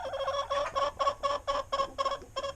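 An older hen, over four years old and still laying, clucks in a steady run of about nine close, evenly spaced calls, each short and nasal, heard clearly with no other voices.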